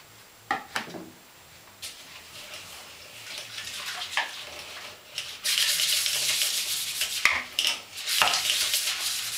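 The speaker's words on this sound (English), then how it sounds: "swish around a little bit more cleaner or dish soap" Cleaner or dish soap is swished around in toilet bowl water, giving intermittent wet sloshing and swirling bursts. It is close and fairly quiet, with a longer continuous stretch of splashing partway through.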